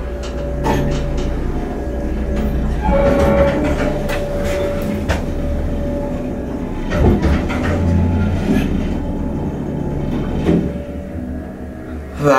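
An Otis Lexan hydraulic elevator at The Breakers Resort's Dunes building runs through a ride, giving a steady, loud low rumble with scattered clicks and knocks and a short tonal hum partway through.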